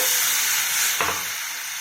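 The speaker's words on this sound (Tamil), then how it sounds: "இப்போ எண்ணெய் சூடாகிடுச்சு, கடுகு போட்டுக்கலாங்க." Mustard seeds sizzle and crackle in hot oil with a steady hiss; a brief burst of spattering flares up, then settles back to sizzling.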